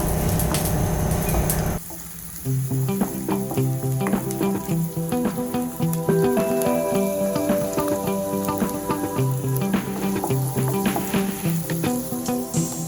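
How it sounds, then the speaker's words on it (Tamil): Onions sizzle in hot oil in a pan while vegetable fried rice is made, a loud steady frying hiss with scattered crackles and occasional stirring throughout, no voices. "ஸோ கொஞ்சமாக வெங்காயம் போட்டு இதை நல்லா ஃப்ரை பண்ணிக்கோங்க"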